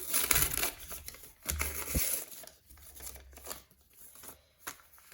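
Crinkling paper of a handmade surprise packet being opened, a rustling, crackling stretch with a few sharper rips and crunches, close and fairly quiet, with no talking.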